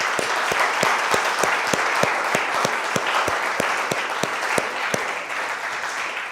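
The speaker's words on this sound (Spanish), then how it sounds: "¿Qué tal si le damos un aplauso gigante a Dios por eso?" Church congregation applauding in a broad, sustained round of clapping, with a strong rhythmic beat of unison claps running through the dense crowd noise from start to finish.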